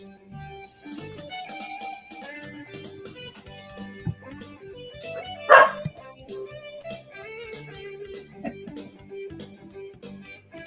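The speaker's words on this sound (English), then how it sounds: "sorry about my dogs" Several dogs bark indoors in short scattered yips and barks, one sharper louder bark near the middle, mixed with background noise and faint voices.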